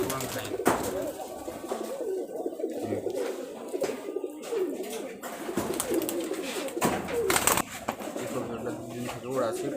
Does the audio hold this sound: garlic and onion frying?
no